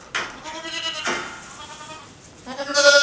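One-year-old goats bleat up close, with two wavering calls a moment apart and a third starting as the sound ends, and no talking.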